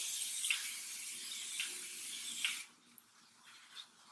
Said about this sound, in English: I'm gonna apply setting spray. I'm gonna use the Morphe Prep and Set spray.